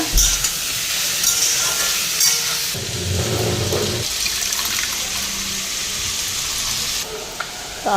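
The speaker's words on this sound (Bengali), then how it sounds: "সয়াবিনটা দিয়ে দিই সয়াবিনটা হালকা ফ্রাই করে নিই" Soybean lightly frying in oil in a pan with boiled potatoes makes a continuous loud sizzle, with bursts of louder stirring and frying noise in the middle.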